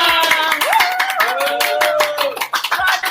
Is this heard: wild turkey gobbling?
no